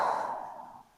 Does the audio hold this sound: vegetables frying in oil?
no